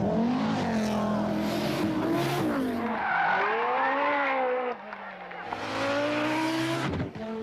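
A Mark II Ford Escort rally car with a 2-litre BDA engine roars and revs hard, pitch climbing and dropping through gear changes, loud and close, with tires scrabbling at moments.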